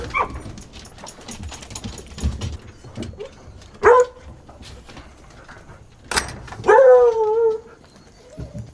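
Hunting dogs at outdoor dog pens, several barks and yelps spread apart at mid distance, including a whining, drawn-out howl near the end, over a low background rustle.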